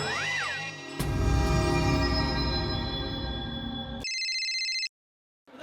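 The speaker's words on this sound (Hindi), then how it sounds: "अरे फिर से वही नंबर से फोन।" A phone ringtone plays with a melodic, electronic tone, repeating continuously for several seconds before stopping abruptly.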